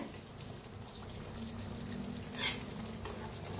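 Masala ridge gourd cooking in a pan on low gas, a soft steady simmering sizzle with one brief scrape of stirring midway.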